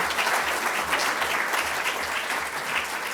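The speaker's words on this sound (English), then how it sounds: "So I think big clap to all that lot." Audience applause at the first launch of a career forum, a steady dense wash of many hands clapping that holds evenly for about three seconds with no talk over it.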